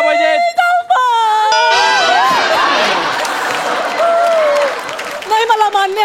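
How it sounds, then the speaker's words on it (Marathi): A live comedy show audience applauds and cheers as a voice fades, with loud clapping, whoops and crowd noise building into a sustained roar that later settles back under speech. "तर एकदा जोरदार टाळ्या व्हायला पाहिजे"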